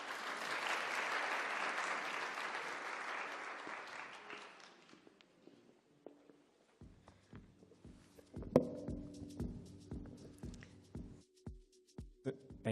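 An audience at a live launch celebration applauds for about five seconds, then the clapping fades out and gives way to scattered thumps, taps and footsteps as people move around.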